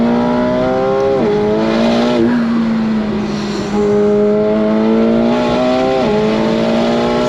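A 2024 McLaren 750S Spider accelerates hard between corners, its loud engine note climbing through rising revs with quick shift drops and rising again, heard steadily from inside the car.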